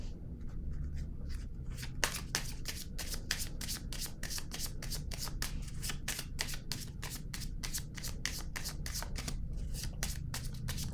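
Tarot cards are shuffled by hand in a steady, fast riffling rhythm of crisp papery flicks, close and continuous for several seconds, with no one speaking.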